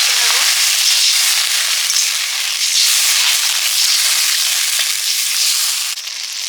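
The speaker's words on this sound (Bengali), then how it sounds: "জল দিয়ে মশলাটা কষে নেব" Masala paste with added water fries in a pan for a silver carp and potato curry, a dense bright sizzle and crackle holding steady and close for several seconds.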